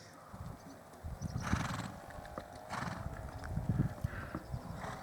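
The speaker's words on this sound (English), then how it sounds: "start trotting some circles around these horses" Horses trot in circles during a horse training session at Kinaldy, St Andrews, Fife, hooves clip-clopping in an uneven rhythm nearby, while a horse whinnies and snorts at intervals.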